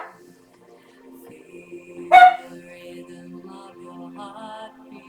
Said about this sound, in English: Sorry about the dog, he'll stop